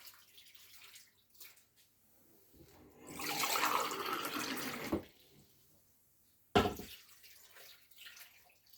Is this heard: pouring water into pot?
yes